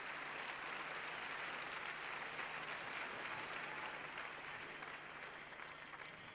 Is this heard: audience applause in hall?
yes